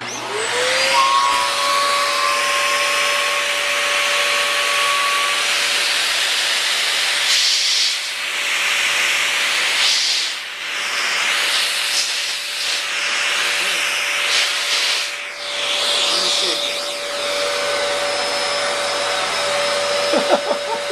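A vacuum cleaner runs loudly up close with a steady roaring hiss and motor whine, its airflow shifting and surging now and then.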